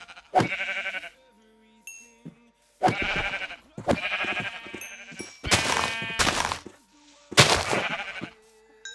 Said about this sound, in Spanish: Señoras ovejas.